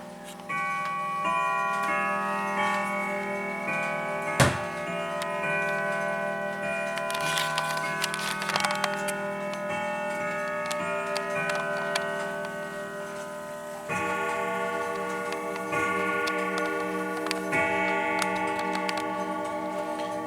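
A Howard Miller Shaker grandfather clock with a modern German movement ticks steadily and evenly for about twenty seconds, close and clear, with metallic resonant overtones, one sharp louder knock partway through, and no voices.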